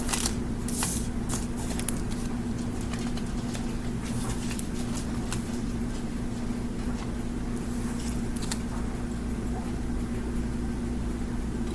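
Tarot cards being shuffled by hand, a busy run of quick riffling and sliding card noises with sharper flicks and taps, close and continuous over a low steady hum, with no voices.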